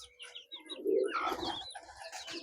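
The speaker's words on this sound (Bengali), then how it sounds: "এই যে কবুতর অনেক সুন্দর খামার" Giribaj pigeons on a pigeon farm coo softly nearby, a low murmuring call mixed with light chirps and rustling around them.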